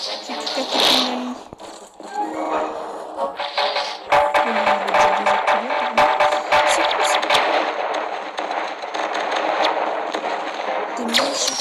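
Rapid bursts of gunfire from a shotgun in the mobile shooter game Pixel Gun 3D, sharp repeated blasts over busy game effects and music, with a person talking throughout.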